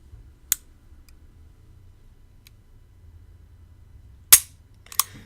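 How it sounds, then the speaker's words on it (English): Sharp, isolated mechanical clicks from a pistol being dry fired as the trigger is pulled straight back, three crisp snaps spaced out over quiet, close up with no talk. "If I hold the trigger on the center of the pad and I pull it straight back to the rear"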